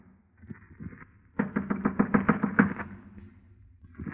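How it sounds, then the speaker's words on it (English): Knuckles knock on a wooden door in a 1949 radio crime drama, a quick run of about ten firm raps, close and loud, with a few softer taps before and after. "I clenched my teeth, my knuckles, and knocked on the door."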